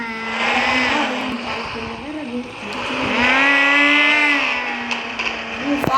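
Car engine in the Car Parking 3D game, a steady tonal drone that swells and revs, with an exhaust backfire under it that cannot be clearly picked out; continuous and fairly loud, with no talk.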